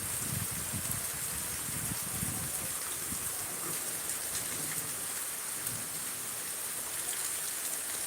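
Heavy rain pours steadily over a grape vineyard in the eastern Miraj area during a thunderstorm, a dense continuous hiss with low rumbling beneath, close and loud throughout with no talk.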